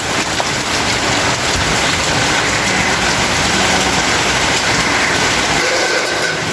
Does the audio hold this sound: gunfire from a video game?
no